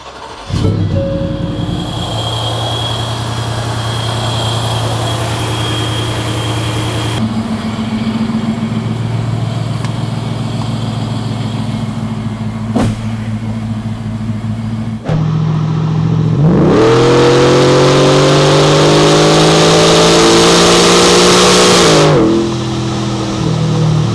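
A 2024 Ford F-150 fitted with a ProCharger supercharger fires up and idles loud and close, then revs sharply, holds high for several seconds with a rising whine, and drops back to idle.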